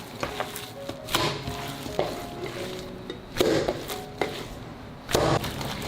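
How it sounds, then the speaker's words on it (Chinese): Minced grass carp paste, mixed with salt, is kneaded and slammed down by hand, giving soft wet thuds and squelches roughly once a second, close and fairly loud. "整个过程呢是这样子揉搓摔打"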